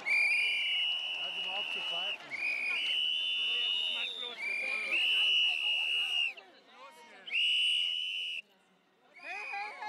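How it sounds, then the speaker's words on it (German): Loud, shrill protest whistles from a crowd at a German political rally come in long sustained blasts with brief gaps, while voices shout and murmur underneath. "Sie hören auf zu pfeifen!"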